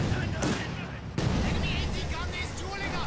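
Artillery fire from a ZiS gun in a WWII strategy video game, heard as two sharp booming shots about a second apart over a dense rumbling battle din with a commentator's voice.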